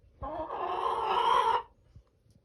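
A single chicken lets out a long, loud, drawn-out squawking call nearby, then fades to quiet.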